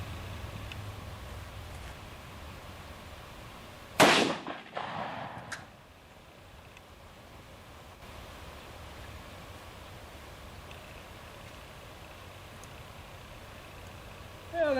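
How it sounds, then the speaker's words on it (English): A .22 rifle shot hits a can of pop outdoors: one sharp crack is followed by a brief rattling tail, with quiet background noise before and after. "Got one more can of pop left."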